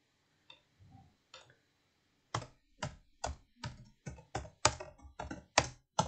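A computer keyboard is typed on, starting with a few sparse key taps and then a steady run of distinct, crisp clicks at a moderate pace, close and alone with no talk.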